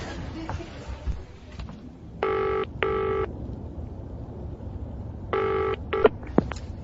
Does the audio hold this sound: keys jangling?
no